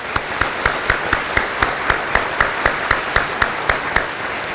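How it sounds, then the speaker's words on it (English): Audience applause at a technical college graduation ceremony, with a broad roar of clapping through which steady rhythmic claps pulse loudly, one nearby clapper keeping an even beat throughout. "Please give them a round of applause."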